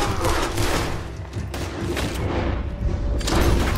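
Gunfire from the Western video game Red Dead Redemption 2 comes in rapid, overlapping booming shots, a loud, continuous fusillade with heavy low thumps and several sharper cracks.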